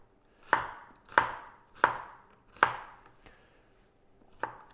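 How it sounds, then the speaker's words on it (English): A knife chops through an onion on a cutting board, five sharp, loud cuts at a steady rhythm, each hit followed by a short fading tail, with no talking. "I'll do like a slit or two so that I can get some dicing going on."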